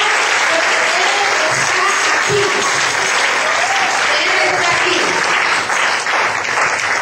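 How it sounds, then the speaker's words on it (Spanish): A church congregation applauds steadily and loudly throughout, with a preacher's voice speaking over the clapping. "denle un aplauso al Señor, hermano, denle un aplauso al Señor"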